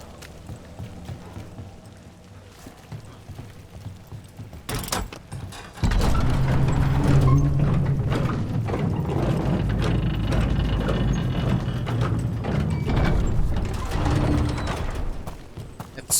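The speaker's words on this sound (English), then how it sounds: "Oh yeah, the elevator." A lift in the game Dragon Age: The Veilguard descends with a steady mechanical rumble and rattling clank, quiet at first and then growing loud and continuous after a sharp thud, with no talk over it.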